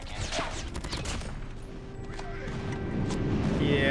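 Rumbling blasts of an airstrike in the Call of Duty video game, a burst of explosions followed by a broad roar that swells louder toward the end, with a voice talking over the first part.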